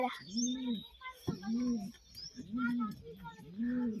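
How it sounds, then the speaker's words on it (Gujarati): Pet pigeons cooing in repeated rounded, throaty phrases close by, with faint high chirps threaded between the coos. "હવે હું અમારા કબૂતર બતાડું"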